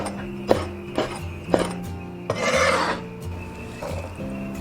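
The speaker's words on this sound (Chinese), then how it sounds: "泡椒切小粒" A knife chops pickled chili peppers into small pieces on a board, a handful of distinct close taps and scraping cuts at uneven intervals over a faint steady background hum.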